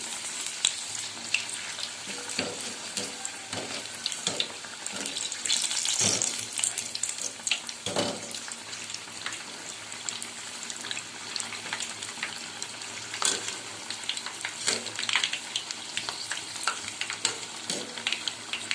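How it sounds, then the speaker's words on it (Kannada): Green chillies fry in a pan on a low flame for mirchi, giving a soft continuous sizzle with scattered crackles and occasional stirring or scraping sounds, no voices. "ಎರಡು ಸೈಡಲ್ಲಿ ಮಿರ್ಚಿಗಳನ್ನು ಕ್ಲೀನಾಗಿ ಬೇಯಿಸ್ಕೋಬೇಕು ಲೋ ಫ್ಲೇಮಲ್ಲೇ ಬೇಯಿಸ್ಕೋಬೇಕು"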